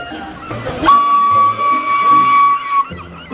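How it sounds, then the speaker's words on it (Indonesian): A toy Thomas train lets out a steady steam-whistle tone with hissing, held for about two seconds, loud and close, starting and ending abruptly. "Di sini ada kereta Thomas."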